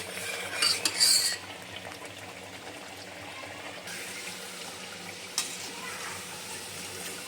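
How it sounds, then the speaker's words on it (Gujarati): Tava masala sizzles steadily in a pan while a metal spoon stirs and scrapes, with a burst of clattering near the start and a single sharp tap later; no one talks. "બ્રાઉન થાય ત્યાં સુધી તળવાની।"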